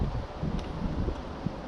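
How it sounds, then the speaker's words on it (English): Wind gusting steadily across an outdoor vegetable garden, a continuous low rumbling buffet against the microphone with faint rustling, fairly loud and unbroken, no talking. "Pretty windy today."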